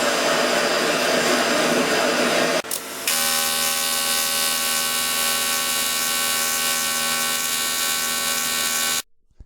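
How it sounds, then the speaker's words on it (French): Gas torch preheating the aluminium mass of an alloy wheel rim before welding, a loud continuous hissing roar that cuts briefly, restarts and runs steadily before stopping abruptly near the end. "Préchauffage de la masse d'aluminium dans la zone qui va recevoir la première soudure."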